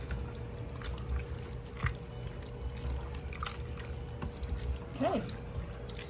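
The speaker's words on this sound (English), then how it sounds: "I'm gonna add 1 pint jar of the tomatoes that I canned this summer." A pint jar of home-canned tomatoes is poured into a soup pot, a soft wet glugging and trickle that runs steadily under a low background hum, close and moderately loud.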